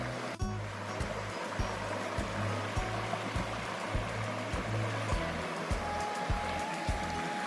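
Steady rushing stream water on a rocky trekking path to Penchalakona waterfalls fills the scene, with regular thumping footsteps or splashes through it and a sharp knock near the start.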